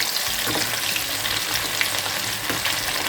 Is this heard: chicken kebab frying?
yes